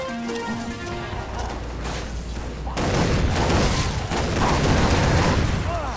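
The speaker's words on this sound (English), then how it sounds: "God damn this shotgun" Shotgun blasts in the video game Far Cry 3 Blood Dragon, a string of loud booming shots that grow denser and heavier halfway through, layered with game sound effects and a little talk.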